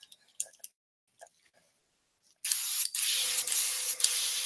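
Aerosol spray paint hissing steadily over miniature figures, a loud continuous spray burst after a few faint clicks and handling taps.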